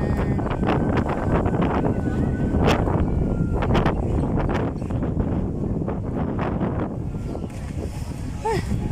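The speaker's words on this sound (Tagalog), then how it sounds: "Ang hangin, grabe ang hangin." Strong wind buffets the microphone in continuous loud rumbling gusts at Sai Kung Waterfront Park, Hong Kong, with faint voices and outdoor sounds beneath.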